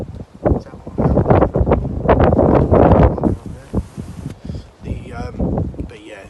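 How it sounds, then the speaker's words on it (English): Loud, blustery wind gusting around 50 mph buffets the microphone at a carp lake, while a person talks over the roar. "as you can hear with the wind, I know it's getting 50-mile-an-hour gusts"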